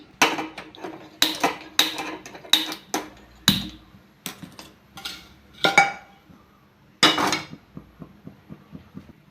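A clay cooking pot is handled on a stove, giving a series of hard clanks, knocks and scrapes in irregular bursts. The sounds are close and loud, with quieter ticks between them and no talking.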